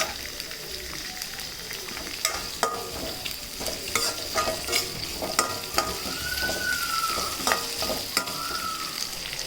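Chopped capsicum and onion fry in a hot pan for bisi bele bath while a spoon stirs them, a steady close sizzle broken by frequent scraping clacks throughout, with no voices.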